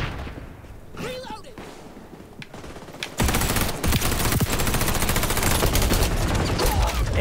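Rapid automatic gunfire from the shooter game XDefiant, a dense, continuous burst that erupts suddenly midway and stays loud to the end, with quieter game sounds and faint movement beforehand.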